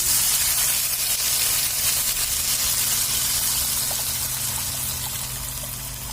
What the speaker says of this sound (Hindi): अब कड़ी का मिक्सचर जो हमने रेडी किया हुआ था वो इसके अंदर डाल देंगे।